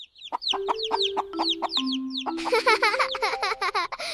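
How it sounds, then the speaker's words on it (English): Rapid, repeated clucking of a hen, close and lively, with a short run of sharper chattering calls toward the end. "This is a hen."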